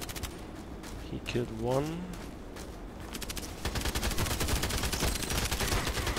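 Automatic gunfire in the shooter Contract Wars, a dense rapid stream of shots filling the second half after quieter moments, with someone talking over it.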